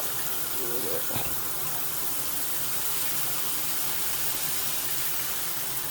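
Water gushes steadily from an opened water valve, a close, continuous rushing hiss with a brief knock near the start, while a person speaks over it.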